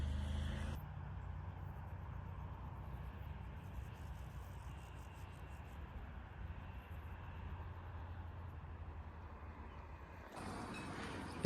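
A car climbs a winding serpentine mountain road on the way to northern Spain. Its engine and road noise hold a steady, continuous rumble with no talk, and the sound changes briefly near the end.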